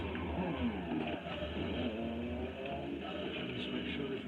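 A car engine in a driving simulator video game drones continuously at a steady, fairly loud level with slight pitch shifts as the car moves.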